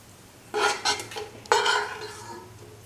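Roasted cashews and raisins are scraped from a pan onto a plate, several sharp metallic clinks and scrapes of a spoon against the pan, close and fairly loud, with no talking.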